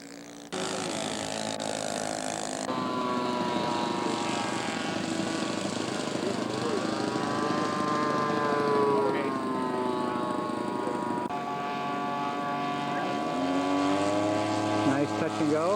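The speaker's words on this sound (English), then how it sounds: "Hanson getting ready for a takeoff" A scale model airplane taking off at a scale aircraft show, its small engine giving a steady, loud propeller drone that rises and bends in pitch as it climbs away, with commentary heard over it.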